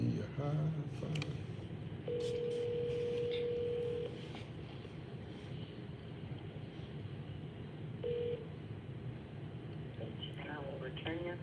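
A telephone line gives a long steady tone for about two seconds and a short second beep later, set against a low background hum with a few voices talking.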